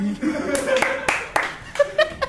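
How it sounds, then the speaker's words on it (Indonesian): A small audience on an Indonesian hosting show claps in short, scattered bursts, mixed with chuckles and people talking close by. "Tepuk tangan teman-teman."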